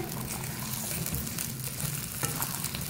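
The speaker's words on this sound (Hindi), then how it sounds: "अब इसको फ्राई करेंगे।" Half a kilo of cut okra fries in oil in a kadai, producing a dense, steady sizzle close by with faint stirring scrapes.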